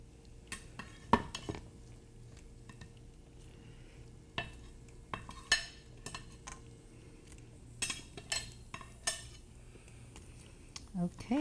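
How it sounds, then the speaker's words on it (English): A spoon stirs eggplant and apple in a pot of simmering water for a Kashmiri dish, making scattered clinks and scrapes against the pot over a low background, with a voice talking at times. "just stir it nicely so that it soaks in a little bit of water"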